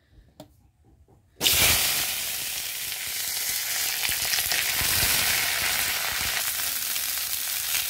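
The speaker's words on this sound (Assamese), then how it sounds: "এইখিনি মই ভাজি লম" Large cauliflower and potato pieces drop into hot oil in a wok, a short quiet lead-in, then a sudden loud, dense sizzle that holds steady and close for the rest of the clip.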